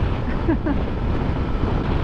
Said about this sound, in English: This area is part of the always windy area